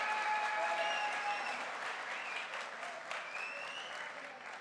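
Audience applause at a direct selling motivational event, steady crowd clapping that stays fairly even for several seconds before tapering slightly, with faint whistles over it.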